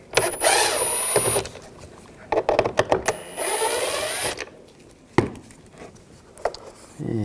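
A power driver fitted with a T20 socket spins out screws on a 2011-2018 Ram 1500 door, with two long whirring bursts separated by brief clicks and handling noises, close and fairly loud.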